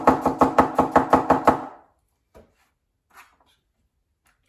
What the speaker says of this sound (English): I'm going to slice her in thirds, and then slice nice and thinly.